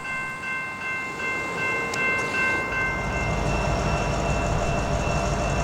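A freight train rumbles past nearby in Oklahoma City, its heavy locomotive and distributed power unit drone swelling to a loud, steady roar with faint horn tones above, no voices.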